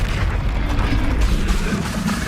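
A Confringo blasting spell goes off in Hogwarts Legacy with a loud, deep, rumbling explosion that sustains as a heavy boom across the whole moment, with no voices over it.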